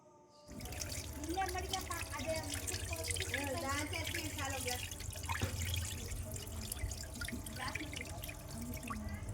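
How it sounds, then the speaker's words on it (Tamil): Rice is washed in water for an egg rice recipe, with continuous sloshing and dripping that lasts throughout and voices murmuring in the background. "இப்போ நெக்ஸ்ட் பார்த்திங்கன்னா அரிசி கழுவிட்டு இருக்காங்க."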